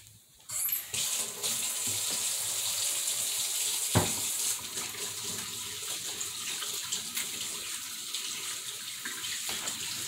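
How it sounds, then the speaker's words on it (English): Tap water runs steadily into a sink for hand washing in a home kitchen, a continuous near hiss that starts abruptly and holds to the end, with a brief knock partway through. "I'm gonna wash my hands."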